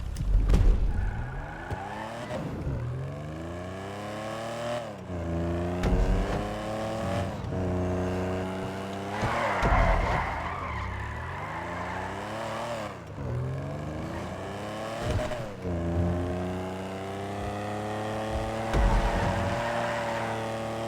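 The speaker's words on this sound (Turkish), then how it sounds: "Bu araba bayağı hızlı gidiyor." A race car in GTA 5 Online revs hard, its engine climbing in pitch and dropping with each gear shift in a repeating pattern, steady and prominent throughout.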